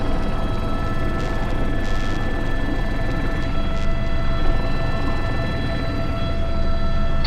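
An Airbus H125 (AS350) helicopter carrying a heavy sling load gives a loud, continuous close-up rotor and turbine roar with steady whining tones, unbroken for the whole stretch.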